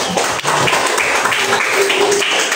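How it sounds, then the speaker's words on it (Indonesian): Applause from a classroom group after winners are announced, a short burst of hand clapping lasting about two and a half seconds, fairly loud and dense, with a faint voice underneath. "Tepuk tangan."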